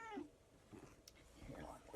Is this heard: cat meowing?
yes